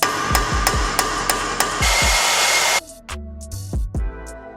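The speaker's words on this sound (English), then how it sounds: "Now we're gonna torch them." A torch heats a rusty Honda brake caliper with a loud, steady roaring hiss, amid sharp metallic hammer strikes and clanks before and after.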